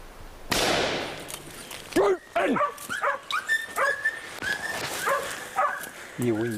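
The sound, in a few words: hunting dog barking in the hills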